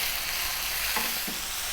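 Onions, garlic, black spice and salt fry in a pan for a chicken avocado salad, a steady soft sizzle with a couple of brief stirring scrapes, close and continuous, no voices.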